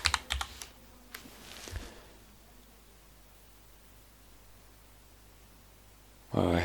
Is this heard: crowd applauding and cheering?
no